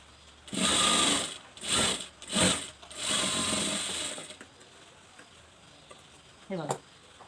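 Sewing machine stitching a blouse seam: several short bursts of whirring stitching, one after another, close and fairly quiet, then a brief final burst after a pause.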